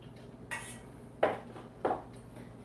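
Metal whisk striking a bowl while clarified butter is worked in, a few scattered clinks and scrapes at moderate distance over quiet room tone.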